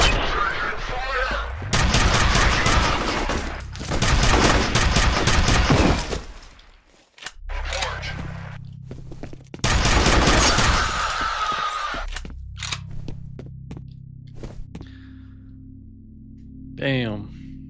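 Bursts of gunfire from the shooter game F.E.A.R., loud volleys of rapid shots in two long stretches, followed by quieter scattered impacts and a faint rising electronic whine near the end.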